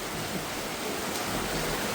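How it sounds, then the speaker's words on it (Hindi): Heavy rain hammers down in a dense, unbroken hiss that stays loud and even throughout, with no voices over it. "भाई देखो बारिश कितनी तेज हो रही है।"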